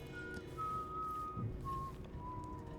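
A guard whistling a tune in the stealth game Dishonored 2, a few faint drawn-out whistled notes at a distance over a low ambient hum.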